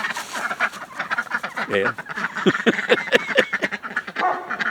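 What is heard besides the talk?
ducks quacking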